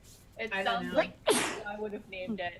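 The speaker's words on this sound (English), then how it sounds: "I know you've got some serious sneezes going on over there." A single sharp sneeze bursts out near the middle, loud and close, between bits of conversational speech from more than one person.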